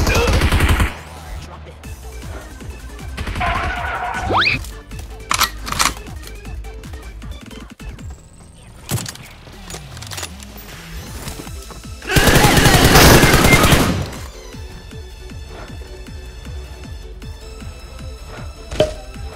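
Gunshots in the video game PUBG Mobile come as loud bursts of rapid automatic fire, the heaviest near the middle, separated by quieter gaps with faint clicks and shuffling.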